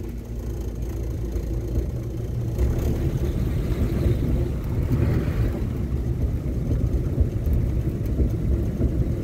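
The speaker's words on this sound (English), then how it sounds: "All right, there's a car coming." A car approaches and passes on a road, heard as a steady broadband engine and tire rumble that holds fairly constant throughout, with no speech.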